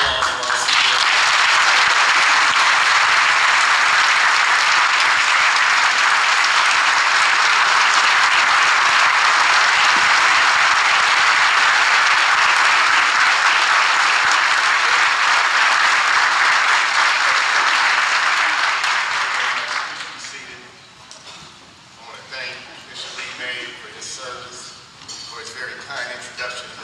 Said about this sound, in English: let's give a round of applause for our CEO